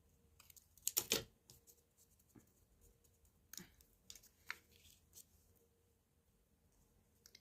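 Scissors trimming a paper grass die-cut for a handmade card, a few close, quiet snips and crisp paper rustles spaced out over several seconds.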